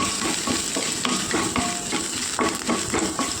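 Crushed garlic and curry leaves sizzle in hot oil as a spoon stirs them through the pan while bitter gourd curry is being cooked, a steady frying hiss broken by repeated scraping strokes, close and with no talking.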